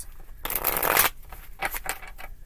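A tarot deck gets a fast riffle shuffle up close, a loud burst of fluttering card flicks lasting about half a second. Softer taps and shuffling of the cards follow.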